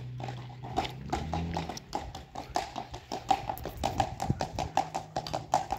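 Hooves of a tall grey-white ten-year-old horse clip-clop in a steady, even rhythm on hard ground, fairly quiet and close by.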